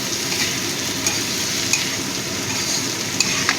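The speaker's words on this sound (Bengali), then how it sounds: "হলুদ গুঁড়ো দিয়ে দিলাম। ভালো করে মিশিয়ে দিচ্ছি।" Turmeric powder being stirred into a Bengali aamudi fish curry in a pan, with a steady close sizzle and frying hiss throughout and a few light scraping stir strokes, no voices.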